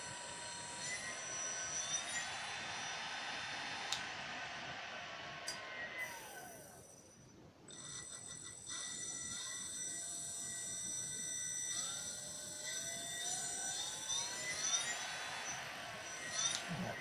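A thin, high whine from a car cooling-fan brushless motor running on 12 volts hums steadily, its pitch sliding up and down, briefly cutting out midway before spinning back up; fairly quiet overall.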